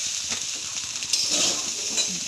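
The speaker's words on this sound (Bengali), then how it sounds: "ভেজিটেবলসগুলো দিয়ে দিলাম।" Vegetables hit a hot pan for fried rice, giving a steady bright sizzle and hiss with light clinks of a utensil.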